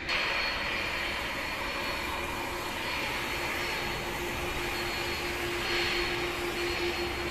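Near Dhaka's Shahjalal International Airport runway, a jet airliner gives a steady, loud engine roar with a sustained whining hum that holds for several seconds without speech.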